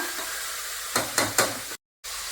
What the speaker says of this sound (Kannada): ಇದನ್ನು ಚೆನ್ನಾಗಿ ಮಿಕ್ಸ್ ಮಾಡ್ಕೊಳ್ತಾ ಇದ್ದೀನಿ